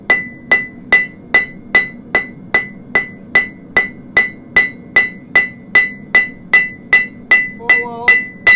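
A hammer strikes hot metal on the side of an anvil while forging onion horseshoes: about twenty loud, evenly spaced blows, each ringing brightly, in a steady close rhythm with no talk.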